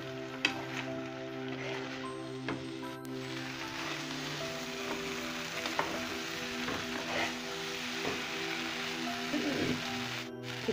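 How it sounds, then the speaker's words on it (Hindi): Semolina manchurian pieces stir-fry in a pan with a continuous sizzle, broken by scattered clicks and scrapes as the pieces are turned, with no talking. "अब हम इसमें डाल देंगे डाइस अपने और इसको चलाते हुए थोड़ा सा भून लेंगे।"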